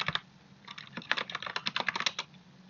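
Quick bursts of keystrokes on a computer keyboard as terminal commands are entered, close and clear, with short pauses between clusters of taps.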